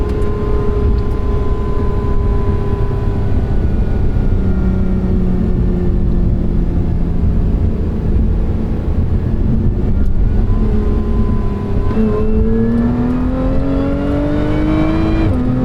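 A 2023 Lotus Emira engine drones loudly from inside the cabin, climbing steadily in pitch and dropping sharply at each quick upshift before rising again, continuous and close with no talking.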